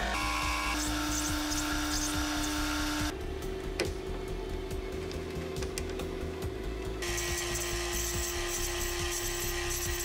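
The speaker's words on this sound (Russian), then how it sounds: "обтачиваю до диаметра 6 мм и нарезаю резьбу" A lathe turns and threads a small brass adapter to 6 mm diameter with an M6 thread, a steady machine whine whose pitch shifts partway through as the cutting changes, with scattered scraping clicks of metal being worked.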